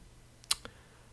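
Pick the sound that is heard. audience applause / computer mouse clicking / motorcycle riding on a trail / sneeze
computer mouse clicking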